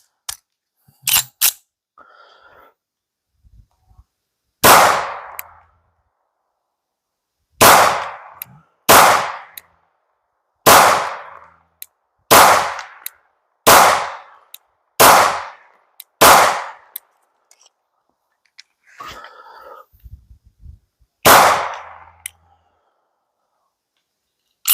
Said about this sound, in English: Let's go ahead and throw some rounds down range.